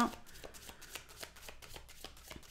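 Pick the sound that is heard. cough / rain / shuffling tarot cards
shuffling tarot cards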